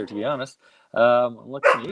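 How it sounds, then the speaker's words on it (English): A dog barks and yips in short bursts close by, overlapping someone talking casually indoors. "Sorry for my dog."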